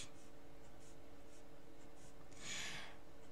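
Pen strokes inking over a pencil sketch on paper, a soft close scratching that runs in short intermittent bursts, with a brief louder rub near the end.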